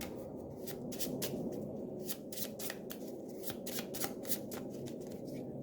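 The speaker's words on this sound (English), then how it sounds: "let's shuffle the deck up" A deck of board game cards for Eldritch Horror is shuffled close up in quick, repeated riffling bursts, crisp and rhythmic, with no talking.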